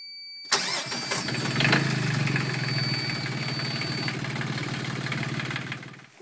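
A sailboat's inboard engine cranks and catches after a short silence, then settles into a steady, close, rumbling idle with a faint whine, running until the end.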